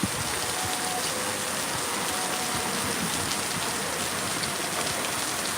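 Steady, dense rain pours down with an even hiss and spatter on surfaces, continuous and close throughout with no voices.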